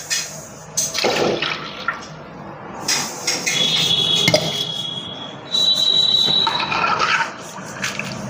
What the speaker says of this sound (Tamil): 6 டம்ளர் தண்ணி நான் அளந்து வச்சுருக்கிறதுனால அப்படியே ஊற்றுறேன்.